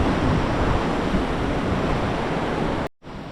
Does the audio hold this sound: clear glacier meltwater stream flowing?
yes